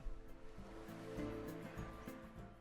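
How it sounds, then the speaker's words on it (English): A crash-test dummy splashes into a pool in the video game Planet Coaster 2, a soft watery wash heard over steady in-game music. "here comes the mannequin, dummy, splash into the pool"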